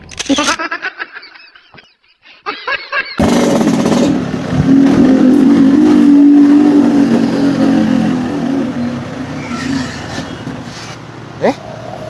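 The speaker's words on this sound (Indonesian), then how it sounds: "Motor kunaon nih we ieu? Nanaonna ieu motornya? Kebiasaan mogok." A motorbike engine revs up and holds at a loud, rough drone after a short burst of talk and a brief lull, then tails off a little.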